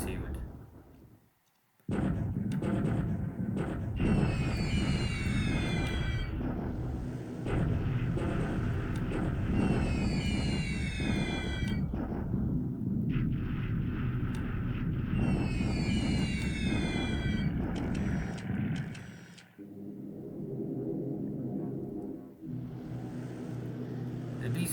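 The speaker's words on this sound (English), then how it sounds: "The B-17s are coming" B-17 bombers in the wargame War in the Pacific: a dense, steady engine drone and rumble with repeated descending whistles and bursts of explosions, loud and continuous before easing off near the end.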